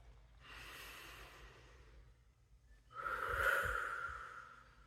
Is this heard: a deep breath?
yes